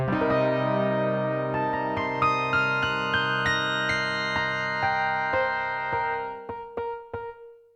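A Yamaha TX816 FM synthesizer imitates an acoustic piano, playing a clear run of bright, bell-like piano notes and chords that ring on. A few short, detached notes follow as the sound fades out.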